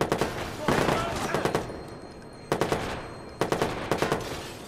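Automatic gunfire in the video game Watch Dogs, heard as three separate bursts of rapid shots, loud and close, with short quiet gaps between them.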